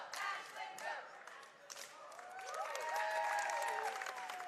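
Cheerleaders and a crowd yelling and cheering at a high school boys basketball game, many overlapping voices in a gym that grow fuller and louder toward the end.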